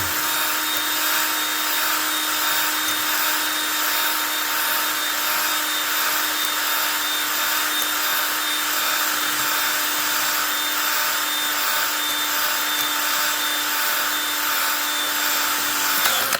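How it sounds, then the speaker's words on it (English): A cordless power drill on a low battery whines continuously at a steady high pitch, running without pause for the whole stretch, loud and close with no voices. "Battery on my drill's going down. I can hear it."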